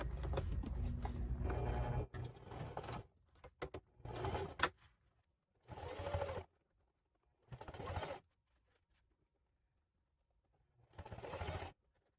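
A sewing machine top stitches a handbag seam in short bursts: a longer run of stitching, then several quick separate runs with silent pauses between, close and alone.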